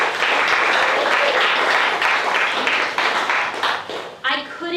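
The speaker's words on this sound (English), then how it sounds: "Let's give our Keene Democrats a round of applause." An audience at a Keene City Democrats candidates' barbecue fundraiser claps in a dense burst of applause that thins out toward the end, with voices and cheers mixed in.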